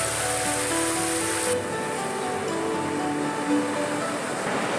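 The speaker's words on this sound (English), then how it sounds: "it looks like there's a waterfall." Steady rushing water from a waterfall beside a picnic area on the Burnt Head Trail in Cupids, Newfoundland, a continuous broadband roar that holds at an even level throughout without breaks.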